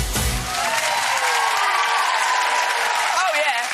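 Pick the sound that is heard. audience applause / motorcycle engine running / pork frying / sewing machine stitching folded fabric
audience applause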